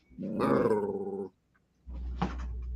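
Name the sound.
dog growling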